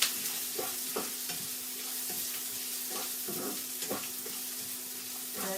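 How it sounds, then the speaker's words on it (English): Food stir-fried in a pan for a Chinese New Year Eve meal: a steady sizzle under repeated scraping and tossing strokes of a utensil against the pan, close and without talk. "Give it a bit of frying as well."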